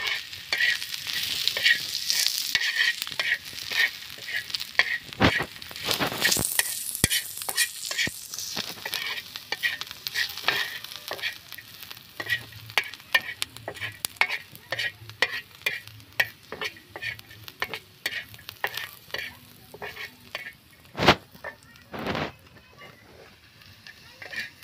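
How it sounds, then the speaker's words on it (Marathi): Chicken masala spices and coriander seeds dry-roasting in a pan for sukka chicken, a continuous crackling sizzle with frequent scraping strokes of the spatula and a few sharp knocks, close and without talk. "यामध्ये पण धने पण टाकून घेऊ, म्हणजे हे एकसोई भाजून जाते पुरा मसाला."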